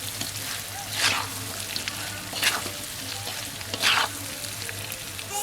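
Meat and potatoes frying in a pan for Padang-style dendeng batokok, a constant close sizzle broken by three scraping strokes of a spatula stirring the food, at evenly spaced intervals.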